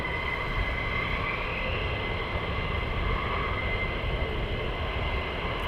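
Military jets take off at RAF Lakenheath, a pair of aircraft roaring down the runway in a continuous, heavy, broadband rumble that holds steady and loud without a break.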